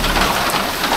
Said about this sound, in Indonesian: Hujan bos.